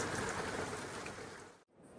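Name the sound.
slushy rain falling outdoors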